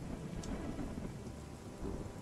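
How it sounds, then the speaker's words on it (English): Thunder rumbles over steady rain during a lightning storm in the video game Craftopia, a continuous hiss of rainfall with a low, rolling boom running through it. "Almost got zapped by lightning."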